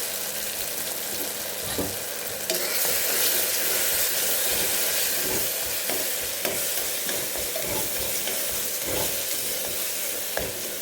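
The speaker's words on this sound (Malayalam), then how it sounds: "തക്കാളിയും ഉള്ളിയും വെളുത്തുള്ളിയും നന്നായി വഴന്നു വന്നിട്ടുണ്ട്. ഇനി നമുക്ക് 1/4 ടീസ്പൂൺ മഞ്ഞൾപ്പൊടി ചേർത്ത് കൊടുക്കാം." Tomato, onion and garlic frying with turmeric in a pan for dal curry, a loud steady sizzle with periodic scraping stirs, close and without talk.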